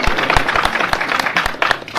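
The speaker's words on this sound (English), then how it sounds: "a clap for that" Audience at a Kenyan political gathering gives a short round of applause, a scattered mix of sharp individual claps at close to moderate distance with no speech over it.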